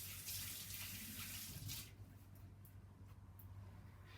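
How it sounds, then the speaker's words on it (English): A kitchen sink tap runs steadily while hands are rinsed off under it, a soft hissing stream that shifts slightly as the hands move, quiet and with no talk. "so I'm just going to wash that off real quick"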